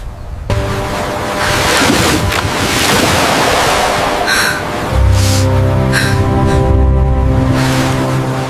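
Ocean surf heard in a sea survival story, loud and continuous with rolling waves and wind gusting against the microphone, with no voice over it.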